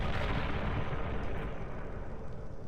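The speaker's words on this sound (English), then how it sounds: "Like grenade type explosion, or howitzer larger artillery explosion? Artillery." A distant artillery explosion from a tabletop war game's sound effect, a dense low rumble rolling and echoing over buildings, sustained and fairly loud for a few seconds.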